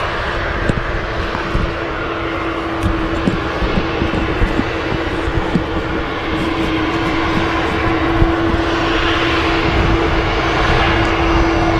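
EasyJet Airbus A320neo at Manchester Airport, Runway 2, departing for Dalaman: continuous engine roar with a steady whine and rumbling texture, loud and near, holding throughout.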